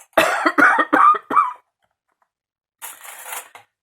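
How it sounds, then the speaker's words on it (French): A person coughs in a quick burst of four or five harsh, close coughs, followed by a short pause and a softer breathy throat sound. "Oh, cette toux qui s'arrête jamais."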